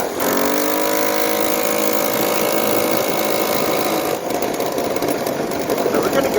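A 139cc two-stroke engine with a CVT transmission runs on its first start, a buzzing, rattling drone with a rapid pulsing beat, steady and close, with a brief change partway through.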